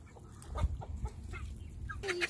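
Chickens in a small garden flock cluck softly and intermittently close by, with short chirpy calls over a quiet outdoor background.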